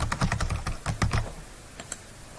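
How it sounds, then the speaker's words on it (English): Keys clatter on a computer keyboard in a quick burst of close, crisp taps, a short pause, then a few more scattered keystrokes. "Just type here."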